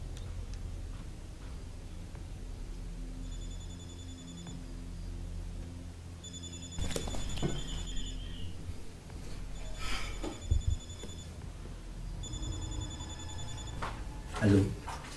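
A telephone rings unanswered in a Cameroonian drama, four regular bursts of electronic trilling spaced a few seconds apart, heard under and between voices, with thumps and rustles.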